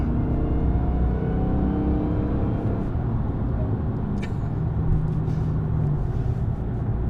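A 797-hp 2021 Dodge Charger SRT Hellcat Redeye Widebody driving, a loud, steady low engine rumble with road noise throughout, heard from inside the car.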